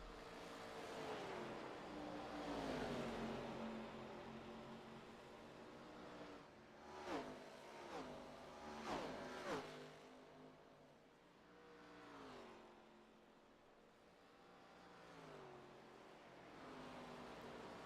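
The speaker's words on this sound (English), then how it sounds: "He let off the throttle, possibly just letting Tom Sears go by." Race cars circling the oval at Nashville Superspeedway in an iRacing sim race, a steady engine drone with rising and falling pitch as cars pass, one car easing off the throttle, fairly faint throughout.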